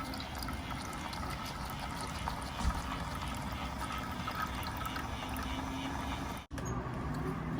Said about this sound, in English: There's the water coming out. Oh my God. Look how dirty the water is.